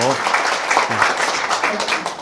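An audience at a Korean lecture gives a round of applause, a steady clatter of clapping running under a voice as he keeps talking.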